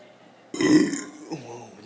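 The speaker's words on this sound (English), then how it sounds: "I'll do 5 burps." A single loud, long human burp, close and alone, rising suddenly after a moment of quiet and trailing off with a lighter gurgle.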